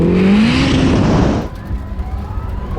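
A Ferrari SF90 or Rimac Nevera supercar launching hard in a drag race, a loud close rising engine and drivetrain whine with a roar of tire and wind noise that cuts off after about a second and a half, leaving a fainter fading rumble.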